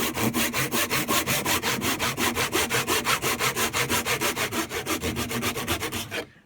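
Rhythmic hand sawing through wood clamped in a vise, steady back-and-forth strokes about six per second, close and loud, stopping at the end.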